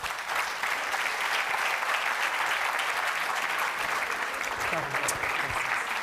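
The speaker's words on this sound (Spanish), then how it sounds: "más fuerte ese aplauso, ¿verdad?" Dense, steady applause from a conference audience at a personal leadership talk, loud and close, filling the whole stretch without pause and with no clear break in the clapping.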